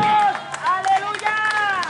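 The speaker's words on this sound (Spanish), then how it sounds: "Yo no quiero que aplauda más, por favor." Church congregation applauding during an evangelical sermon, dense steady clapping mixed with murmuring voices and babble, fairly close and continuous.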